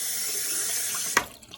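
Water runs steadily from a kitchen sink faucet with low water pressure, a close, even hiss ending in a brief clunk as it is shut off.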